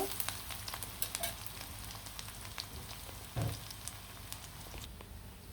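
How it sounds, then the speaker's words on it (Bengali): Chopped garlic and onion sizzle in a pan for radish greens being stir-fried, a constant crackling fry broken by scattered clicks and one louder scrape as the mix is stirred. "রসুন কুচি আর পেঁয়াজ কুচি দিয়ে দিলাম দিয়ে ভালো করে লাড়াচাড়া দিয়ে দিলাম"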